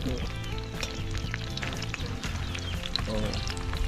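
Food frying in hot oil in a home kitchen at a rural house-building site, a steady close crackling sizzle with scattered spitting pops that runs unbroken throughout, with no one speaking.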